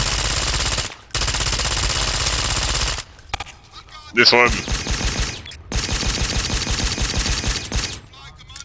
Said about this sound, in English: here's the difference between what a silencer and a suppressor sounds like